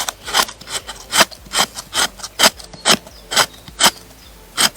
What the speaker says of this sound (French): tu utilises plus de surface sur ta lame, tu fais bien tout le long et fais juste attention de ne pas perdre tes copeaux